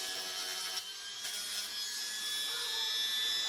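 Excess material is trimmed away while an 8R tractor is prepped for paint, making a continuous close scraping and rasping sound that holds steady throughout with a couple of slight bumps.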